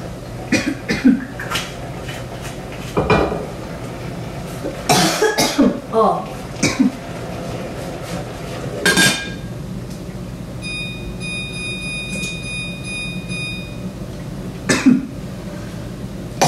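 Several sharp coughs and throat-clearing bursts, set off by vinegar fumes while cooking with soy sauce, break out at intervals, mixed with brief murmuring, and a faint beeping tone sounds partway through.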